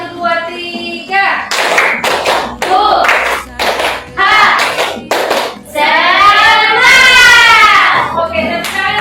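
A class of children claps along to a counted one-two-three pattern, several loud, crisp group claps in a short sequence, mixed with a teacher and children chanting aloud.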